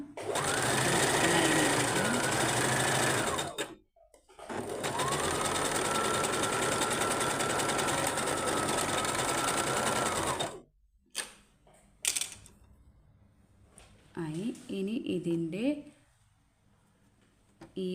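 Sewing machine stitching fabric during a tailoring class, running in two long steady whirring stretches separated by a brief pause, then stopping; clicks follow, and a voice speaks near the end.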